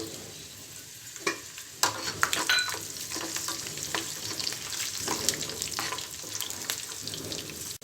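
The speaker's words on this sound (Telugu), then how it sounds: "పల్లీలు ఫ్రై అయిన తర్వాత వెల్లుల్లిపాయ వేసుకోవాలి." Peanuts and garlic fry in a pan with a continuous hiss, broken by sharp clinks and scraping as a utensil stirs against the metal. The sound is close and moderately loud, with no speech.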